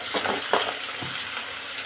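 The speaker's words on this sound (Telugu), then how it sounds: "అన్ని కాయగూరలు ఇట్లా వేయండి. ముల్లంగి ముక్కలు, మునక్కాడ," Radish and drumstick pieces frying in oil for hotel-style sambar, a close, loud sizzle broken by a few quick stirring scrapes against the pan, with no voices.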